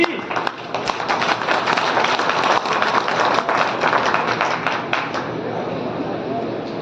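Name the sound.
audience clapping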